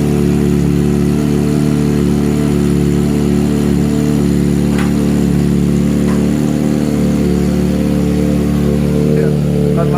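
A 2023 Kawasaki ZX25RR motorcycle fitted with a Putra Jaya Sport racing exhaust runs at a steady, loud idle. Its close, humming drone holds evenly, with a few faint higher ticks above it.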